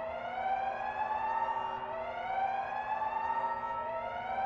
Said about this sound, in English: This alarm may track some of the others.